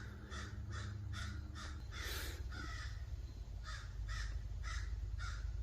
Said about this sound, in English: them crows are loud